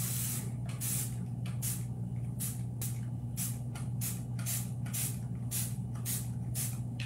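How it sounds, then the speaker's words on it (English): A hand spray bottle spritzing water onto a tray during paint inlay work, about a dozen short sharp hissing bursts in a fairly even rhythm, close up over a steady low hum. "now you spritz it. You wet it again."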